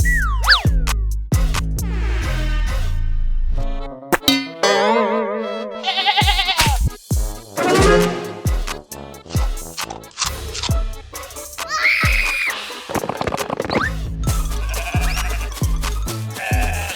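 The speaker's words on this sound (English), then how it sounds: "Let's test these fruits on this sheep." Cartoon sheep bleating in a children's farm animals hide-and-seek game with gorilla and farm friends, several wavering bleats mixed with playful music and sound effects, loud and close.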